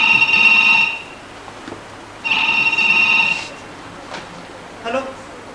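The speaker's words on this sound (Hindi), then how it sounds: "पीए साहब का ही फोन होगा" Telephone bell rings twice in an office during a staged meeting, each burst lasting about a second with a pause between, fairly loud, with faint talk around.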